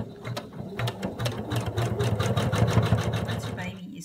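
Embroidery machine stitching around a baby owl appliqué, a steady rapid mechanical needle rhythm that runs close and continuous and stops near the end, with a voice talking over it.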